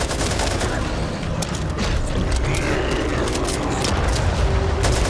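Loud, dense gunfire in the zombie shooter Back 4 Blood's Swarm mode, rapid automatic bursts and sharp shots overlapping continuously with mechanical clatter throughout.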